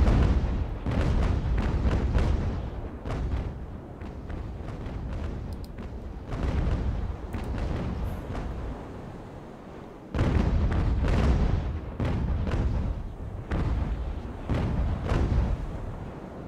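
Naval cannon fire from age-of-sail warships in Ultimate Admiral: Age of Sail, heavy booming broadsides rolling almost continuously, with loud rumbling blasts and a fresh barrage striking near the middle.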